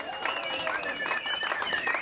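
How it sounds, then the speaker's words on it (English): A crowd at a navigation rally event claps under excited cheering and whooping voices, a busy, continuous burst of applause mixed with chatter. "Give yourselves a big round of applause"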